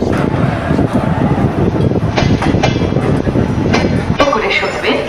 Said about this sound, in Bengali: আমাদের ট্রেন এসে পৌঁছলো তার যাত্রাপথের 10ম স্টেশন রামপুরহাট জংশন